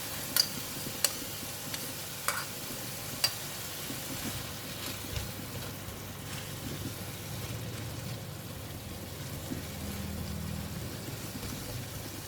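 Black bean sauce goes into a pan of stir-fried bitter gourd and pork belly, a soft steady sizzle with a few sharp clinks of a utensil against the pan and faint stirring, no voices.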